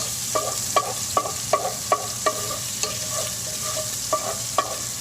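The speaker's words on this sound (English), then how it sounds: "that sizzling noise is because of the moisture" Garlic sizzles in hot oil while a wooden spoon stirs it, giving a steady frying hiss broken by regular scraping knocks of the spoon against the pan, close and alone with no voices.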